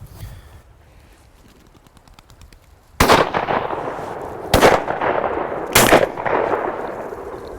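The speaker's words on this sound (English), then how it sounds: "Good shooting, Phil." Gunshots ring out during a hunt, three loud sharp blasts spaced about a second and a half apart, each followed by a rolling echo, after a quieter stretch of outdoor background.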